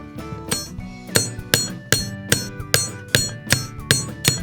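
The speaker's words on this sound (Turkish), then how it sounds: "Şimdi üstten bir çekiç vuralım." A hammer taps repeatedly on a toy truck wheel in a steady rhythm, about a dozen sharp metallic clinks close by with no talking.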